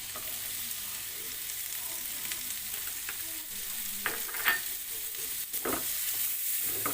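Chopped onion sautés in butter for chicken tikka masala, a soft, steady sizzle close by with occasional light scrapes and clicks from stirring.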